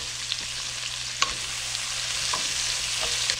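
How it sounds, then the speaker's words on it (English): Peppers sizzle steadily in a skillet as onions go in, with a few scrapes and light clicks of stirring over a constant close frying hiss; no one talks. "Let's go ahead and we're going to add our onions to the peppers."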